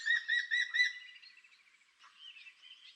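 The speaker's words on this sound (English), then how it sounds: "The Indian green frog." Indian green frog calling at night in a wetland: several quick pulsed, trilling calls close together at moderate loudness, then softer, scratchier chirping, with no voices.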